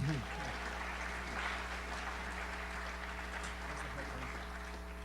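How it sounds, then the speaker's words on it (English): Soft, distant applause from a panel talk audience, lying under a constant low electrical hum and a brief voice at the start. "Let's give a round of applause."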